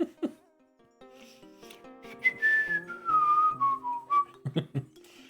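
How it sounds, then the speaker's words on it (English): A man whistles an unrecognizable, wandering tune, the notes sliding downward in pitch, close and fairly clear, with light rubbing and shuffling sounds around it. "He whistles an unrecognizable tune and deliberately looks away."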